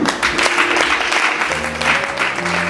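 A church congregation applauds, the dense clapping loud and sustained over faint tonal sounds beneath.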